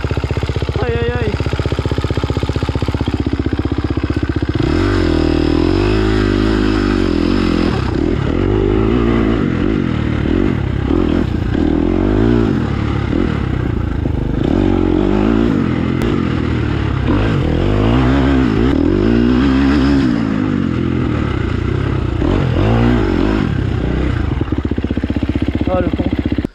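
A motocross bike is stuck in a deep hole and its engine revs in repeated loud, straining bursts over a rough idle throughout. Someone talks excitedly over the engine noise.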